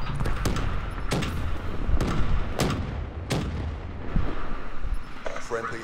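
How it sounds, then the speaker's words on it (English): Artillery strike of fire pods in a first-person shooter game, heard as a string of loud, sharp booming impacts at an uneven rhythm over constant rumbling battle noise, with a voice talking faintly. "Nomad, calling in Kessler's fire pods."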